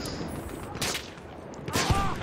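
Gunfire in the World War I shooter Battlefield 1, with scattered shots and bursts cracking at moderate distance over a noisy battlefield background, two sharper volleys standing out.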